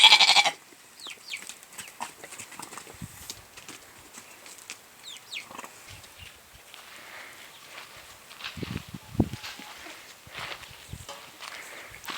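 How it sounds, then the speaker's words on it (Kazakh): Thin sheep and goats move about a farm pen, with occasional bleats, shuffling hooves and rustling at moderate distance, a loud bump at the start and no talk. "Мынау арықтау қойлар."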